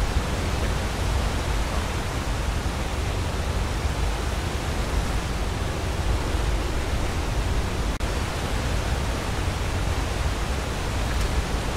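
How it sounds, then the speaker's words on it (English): A booming waterfall in a Zelda video game gives off a dense, steady roar of rushing water, loud and unbroken throughout with no voices. "under this booming waterfall"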